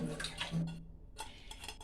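Soaked sunflower seeds are drained in a kitchen, giving a short wet rattle and clatter against a container with a trickle of water, close and fairly quiet, with a brief silent gap midway.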